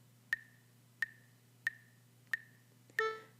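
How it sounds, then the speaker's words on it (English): A single pitch struck as a short 32nd note repeats five times at an even pace, each a brief bright tone with a quick decay, quiet and isolated over a faint low hum. "A pitch that has a duration of 1/32 note would sound like this"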